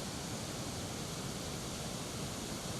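A steady, even roar of falling water at Guryong Falls on Mount Kumgang, where the water drops into a deep pool. The sound is a faint, unbroken wash of noise with no voices.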